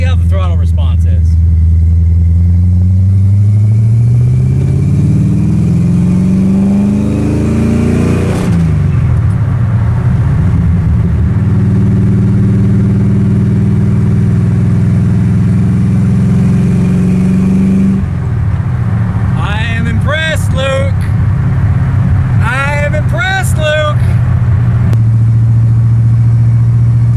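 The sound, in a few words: 1979 AMC AMX engine under throttle while driving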